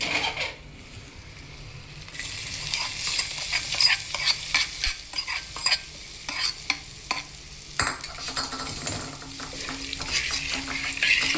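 Hot sizzling tempering poured into gongura chutney, then stirred with a spoon against the bowl, giving crackling fry sizzle and repeated scraping clinks close up, with no talk.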